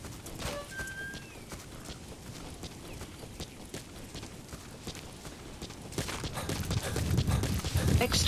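Horse hooves clip-clop steadily at a walking pace in Metal Gear Solid V: The Phantom Pain, growing louder and heavier toward the end, with a voice speaking over them.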